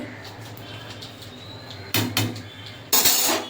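A wok set down on a kitchen stove while making fried rice, two sharp metallic clanks after a quiet stretch, close and fairly loud.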